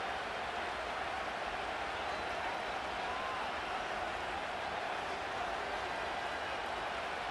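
Steady roar of a playoff football crowd in a stadium during an NFC wild card game, Vikings against Bears, building noise on first down; a dense, continuous wash of cheering with no distinct claps.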